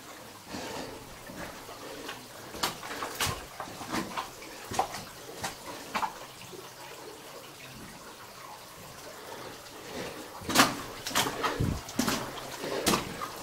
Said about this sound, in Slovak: Celá voda tečie tu